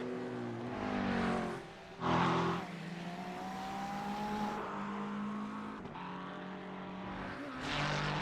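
A Honda NSX race car engine in the iRacing game at Oran Park drones steadily, its pitch climbing through the revs. Two short louder bursts break in early, and no talk is heard.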